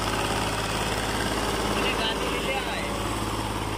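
Fiat tractor engine pulling a load on sandy ground, a continuous throbbing drone with rhythmic low pulses, heard steadily throughout.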